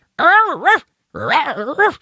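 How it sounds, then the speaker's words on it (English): Two drawn-out, warbling dog barks or howls with bending pitch, loud and close, separated by a brief silence. "you got this other dog barking in the New Guinea accent"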